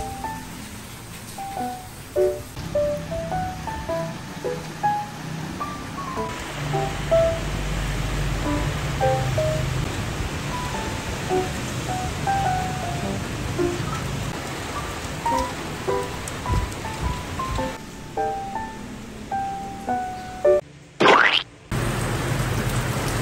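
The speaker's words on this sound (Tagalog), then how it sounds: "It's raining. Grabing rain ito. Hindi pa na rain. It's storm." Heavy rain from a storm pours steadily and continuously at close range, with scattered pinging drops on a surface over the wash, plus brief knocking handling noises near the end.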